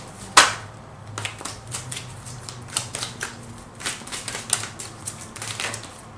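Tarot cards being drawn and shuffled by hand, with a sharp snap at the start followed by soft, close, irregular flicks and riffles.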